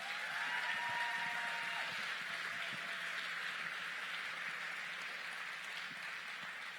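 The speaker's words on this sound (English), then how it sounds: "we should give law enforcement a round of applause" Audience at a BLEXIT event in Baltimore applauds in a long, soft, steady wash of clapping that sounds fairly distant and slowly fades.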